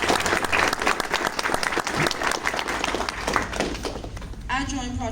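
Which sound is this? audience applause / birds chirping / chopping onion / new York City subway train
audience applause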